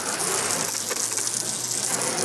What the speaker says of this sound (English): It's similar to what happens with the garden hose if you squeeze it.